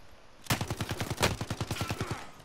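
Rapid automatic gunfire in a Call of Duty: Warzone firefight, a burst of about fifteen evenly spaced shots starting abruptly after a short pause, with one louder crack midway, fairly close.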